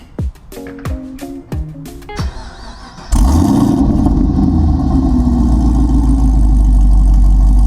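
A Camaro ZL1 fitted with Corsa resonator exhausts fires up on a warm start after a few clicks and chimes, then settles into a loud, deep, steady idle rumble, close to the car.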